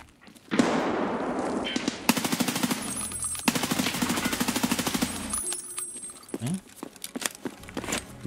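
Rapid bursts of automatic gunfire in the video game Escape from Tarkov, loud and sustained for several seconds, then breaking into scattered shots near the end.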